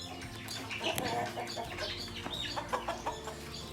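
Farm chickens clucking in a busy barnyard chorus, with overlapping calls and short squawks at close to mid distance, several birds sounding at once over a steady background.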